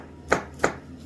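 A knife slices diagonally through a sausage on a cutting board, making two crisp, close thuds spaced about a third of a second apart in an otherwise quiet kitchen.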